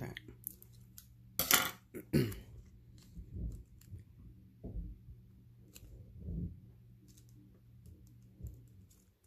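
A short strip of tape being cut with scissors while a paper model of an F-14 Tomcat is assembled: a few close, crisp snips and rustles, with quiet handling between them and no talking.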